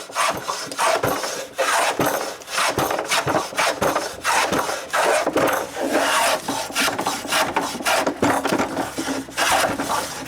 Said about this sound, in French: je rabote la planche bien droite